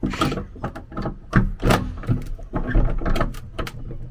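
Heavy wooden door at an old church, rebuilt in 1972, rattled and pushed while locked: repeated knocks, rubs and creaking thuds, close and fairly loud, with no talking.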